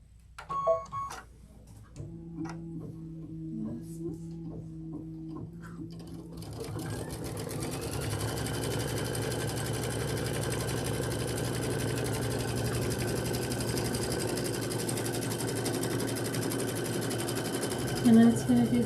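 A sewing machine runs steadily through quilting stitches, a fast continuous mechanical whir that starts after several seconds of brief starts and stops with light talk, then holds loud and even to the end.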